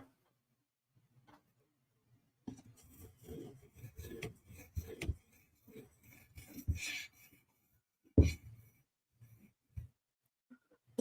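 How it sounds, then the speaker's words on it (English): A recurve knife blade is drawn across an 800 grit sharpening stone in a run of quiet, close rasping strokes, with a sharper knock partway through and a few light scrapes after. "maybe we'll just do an 800 grit stone real quick to kill the burr"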